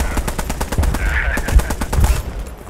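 Rapid machine gun fire from a Vickers gun in the WWII shooter Squad 44, a steady rhythmic stream of loud shots with a few heavier bursts mixed in.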